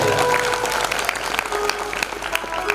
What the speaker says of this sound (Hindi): ताली भी कंजूसी में बजा रहे हो कि जाने कुछ लग नहीं जाए।